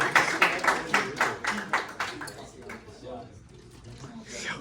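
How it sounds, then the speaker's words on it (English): A group of people claps in a quick burst of sharp hand claps that thins out and fades to quiet, then picks up briefly again near the end, with some voices mixed in. "Clap."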